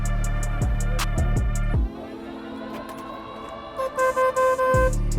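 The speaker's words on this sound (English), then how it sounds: "You have to get you a little horn there," A small add-on horn on a Polaris RZR side-by-side gives a run of short, loud electric beeps. A long tone follows, then another burst of quick honks, all close and alone without speech.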